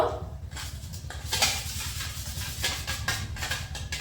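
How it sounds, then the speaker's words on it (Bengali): Yogurt being beaten well in a bowl for a fried chicken marinade, a fast repeated clatter of a spoon against the bowl over a low steady hum, with no speech. "দইটা ভালো করে ফাটিয়ে নেব"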